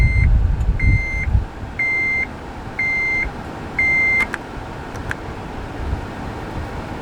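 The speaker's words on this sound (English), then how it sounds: "Turn the car on." A 2004 Honda Element is switched on and its dashboard chimes five evenly spaced, identical beeps, clear and close, after a brief low rumble at the start, with no talk.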